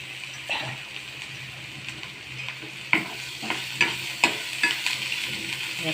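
Onions frying and being stirred in a pan for tomato chutney, with a steady sizzle broken by repeated scraping clicks of a spatula, close and moderately loud, no talking.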